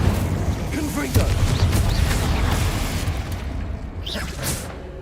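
Confringo spell blasts in Hogwarts Legacy land as heavy, booming explosions, one after another over a rumbling battle din, fairly loud throughout and easing slightly toward the end.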